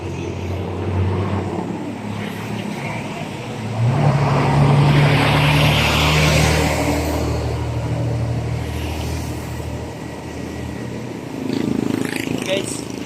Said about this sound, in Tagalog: Highway sa Banilan.